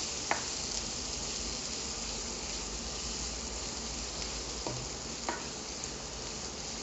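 Onions frying with cumin seeds in a pan for Punjabi rajma masala, a soft continuous sizzle with a few faint clicks of a stirring spoon, no one talking.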